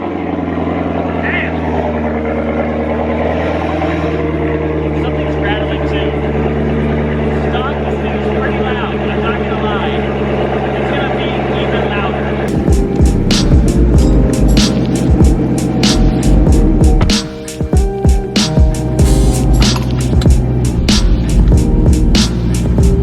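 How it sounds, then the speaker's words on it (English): Cold start of a Z06 Corvette with stock headers and Corsa Extreme exhaust: a low steady hum, then the engine catches midway and erupts into a loud, rough, pulsing rumble with sharp revving bursts. "So let's get our last cold start of the stock headers and the Corsa Extremes."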